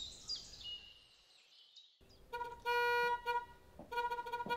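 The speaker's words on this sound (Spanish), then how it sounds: "¿y tú no escuchas que están tocando bocina hace rato?" A car horn honks in repeated short toots, some longer blasts, from somewhere outside and moderately distant, after faint bird chirps in a quiet yard.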